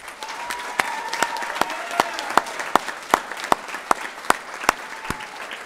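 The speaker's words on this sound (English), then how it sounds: "Could we please applaud the medallion winners?" An audience at a school senior prize-giving applauds the medallion winners, with warm, sustained clapping punctuated by sharp, regular close-up claps.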